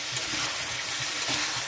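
Spice paste fries in a pan with water added while banana-flower dumplings are being cooked, producing a dense, steady close hiss with faint low bubbling underneath and no talking.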